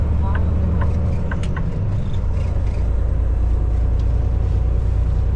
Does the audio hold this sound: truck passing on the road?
yes